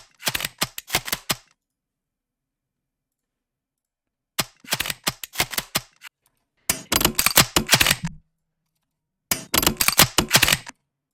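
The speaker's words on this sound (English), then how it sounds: "Then I've got this one, recharge sound. They've got lots of little metallic clicky sounds." Recharge sound effect from Honkai: Star Rail, made of bursts of small metallic clicks in quick ticking runs, separated by silent gaps, crisp and close with no voices.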